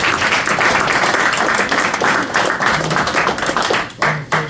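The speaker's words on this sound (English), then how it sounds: "Give yourself a round of applause for being here." A school audience at Garfield Park Academy breaks into loud, dense applause that holds steady, then thins and breaks up near the end.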